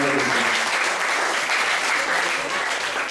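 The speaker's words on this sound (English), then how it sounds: "let's give a round of applause for this wonderful devotees" Applause from a temple congregation at an ISKCON Super Saturday feast in Atlanta, honoring the devotees who cooked; dense, steady clapping from many hands fills the room throughout at close, loud level.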